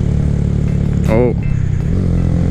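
Honda Grom motorcycle engine labouring up a hill, a loud steady close drone with wind noise, briefly overlaid by a person speaking.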